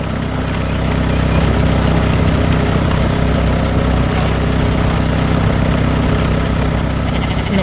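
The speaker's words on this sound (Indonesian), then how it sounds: "Mesin pertanian hijau sedang bekerja keras di tengah sawah, menanam benih dengan rapi dan cepat." A loud, steady engine of a farm machine planting seed in a rice paddy drones nearby with a deep rumbling throb, running continuously like heavy machinery working outdoors.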